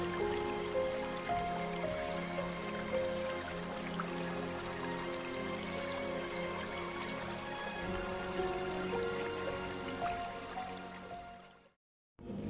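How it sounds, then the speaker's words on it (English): Water flowing steadily through waterfall display tanks holding goldfish: a continuous, fairly soft trickling and splashing wash with small drips, heard without talk until it cuts off near the end. "the waterfall tanks with goldfish inside."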